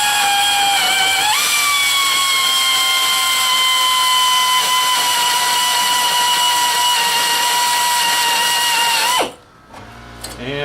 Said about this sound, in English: we'll try to drill this with this 1/8 inch bit.